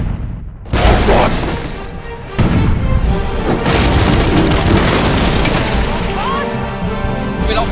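Heavy booms from ship cannons in the pirate sailing video game Sea of Thieves strike abruptly and loudly, followed by sloshing water and churning game noise over several seconds, with excited players talking over the action.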